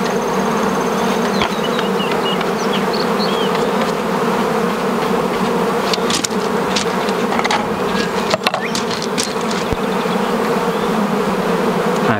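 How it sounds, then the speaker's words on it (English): Honey bees buzz around an open beehive during a hive split, a dense, continuous droning hum close by with individual bees passing near, steady throughout. "I feel a bee crawling under my shirt, so I'll release her."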